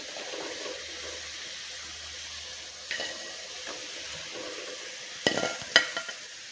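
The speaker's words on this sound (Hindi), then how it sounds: "अब इनको फ्राई होने देंगे।" Potato pieces frying in hot oil for aloo biryani, a quiet steady sizzle punctuated by a few louder clinks and scrapes of stirring near the end.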